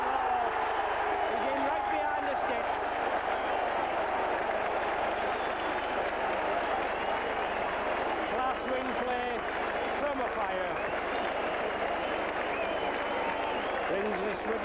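A rugby league crowd at a Widnes v St Helens Lancashire Cup match roars loudly and continuously after a try, the broad cheering persisting throughout with a commentator's voice over it.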